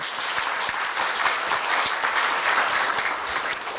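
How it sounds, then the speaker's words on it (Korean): Steady, sustained applause from a seated crowd at a Korea University staff retirement ceremony, many hands clapping at an even, fairly loud level throughout the short span. "큰 박수 부탁드립니다"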